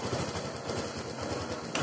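A Honda Vario 125 scooter engine struggling to start, with a close, uneven, sputtering chug that loses steam as it stalls.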